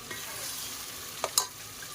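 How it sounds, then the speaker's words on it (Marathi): Tomato puree added to a hot pan while making pav bhaji, a steady close sizzle of frying with a couple of brief stirring scrapes near the end. "टमॅटोची प्युरी करून ठेवली होती ते टाकले."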